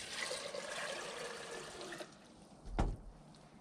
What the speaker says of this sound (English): Now we're going to use cool water